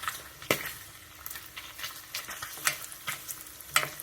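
Pork fat rendering into lard with scratchings in a pan, a quiet frying sizzle broken by sharp spitting pops and clinks of a spoon stirring, close and irregular, about half a dozen distinct snaps.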